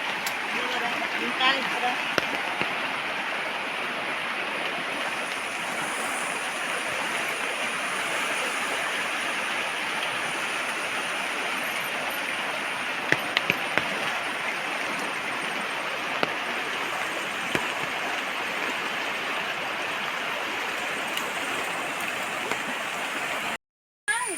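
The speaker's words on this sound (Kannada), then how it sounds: "ನೀರು ಎಂಥ ಸ್ಪೀಡಲ್ಲಿ ಹರಿತಿದೆ" A fast-flowing forest stream swollen by monsoon rain rushes past close by in a steady, unbroken roar that holds loud and even throughout.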